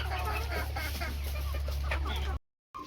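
Free-range village chickens clucking close by as they drink water, a steady stream of short clucks over a low hum, cut off abruptly near the end.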